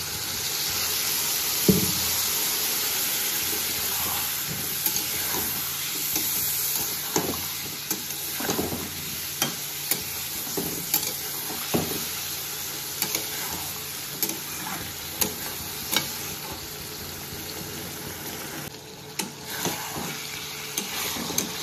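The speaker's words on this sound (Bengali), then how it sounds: "আমি এখন একটু জল দিয়ে এটাকে ভালো করে কষে নেব।" Spices being sautéed with a splash of water in a pan for a Katla fish curry, a low steady sizzle punctuated by regular knocks and scrapes of a spoon stirring, with no one talking.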